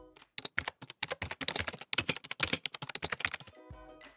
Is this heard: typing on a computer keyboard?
yes